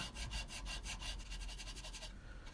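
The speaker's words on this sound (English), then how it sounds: "this is just a triangular file, and it's making pretty short work of this" A triangular file rasps across a butter-soft steel tack hammer head in steady, rapid back-and-forth strokes, a bright scraping rhythm heard close and alone.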